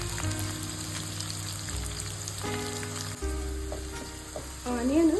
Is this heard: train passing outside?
no